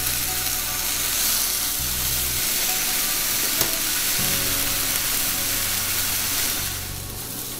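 Pineapple slices grilling in a hot pan, a loud continuous sizzle and hiss close up, steady throughout and easing slightly at the end, with no voices.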